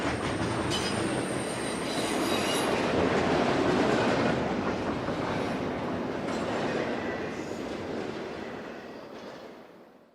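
CPKC freight locomotive 8737 rolls past at the Shreveport terminal, a steady loud rumble of engine and wheels with some high squeal, fading gradually as it moves on.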